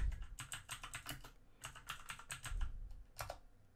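Fast clattering keystrokes on a computer keyboard as a build command is typed for a Minecraft mod, bursts of close clicks separated by short pauses, no voices.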